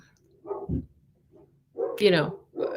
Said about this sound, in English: The hounds from hell are barking next door.